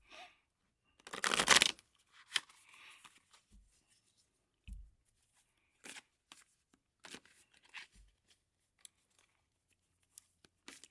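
A very large, oversized deck of cards is shuffled in one loud riffling burst near the start, followed by scattered soft taps and rustles of the cards being handled, with no talking.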